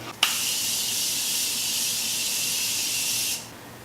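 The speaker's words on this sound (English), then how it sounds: "I'm gonna grab my Morphe Continuous Setting Spray" A single sharp click, then a steady, loud hiss of fine spray from a Morphe Continuous Setting Spray lasting about three seconds before cutting off.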